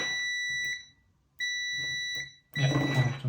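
A continuity tester checking an endstop switch sounds a loud, steady high-pitched tone that breaks off, resumes, and stops again as the switch opens and closes, followed by a burst of clattering handling noise.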